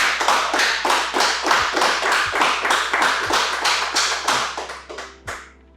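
An audience claps and applauds after a Hindi poetry recitation, a steady wash of many hands that runs for several seconds, then fades out with a few last claps.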